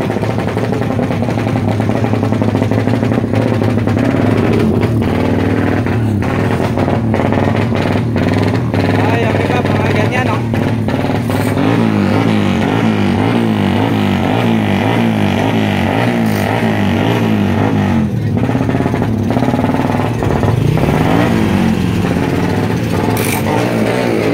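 A motorcycle engine idles and revs up loudly and steadily amid a busy racing crowd, with nearby voices talking throughout and some clattering and scraping in the background.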